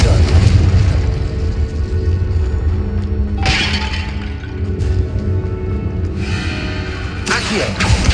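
Blasting-curse explosions from Confringo spells in Hogwarts Legacy go off in loud bursts, two or three sharp crackling booms over a rumbling game soundscape.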